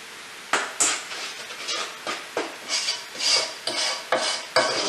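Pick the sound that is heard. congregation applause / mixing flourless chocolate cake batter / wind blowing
mixing flourless chocolate cake batter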